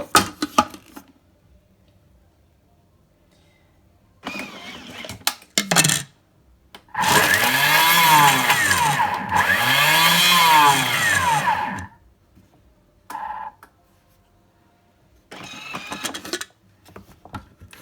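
A Thermomix kitchen mixer bursts to turbo speed on leftover bread dough, a loud whirring roar of about five seconds with a short dip in the middle, set between quieter clattering handling sounds.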